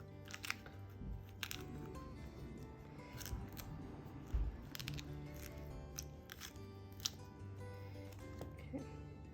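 A knife slices through a whole pineapple to free a section of the fruit, giving a series of crisp, crunchy cuts with gaps between strokes, close and fairly quiet, with no talking.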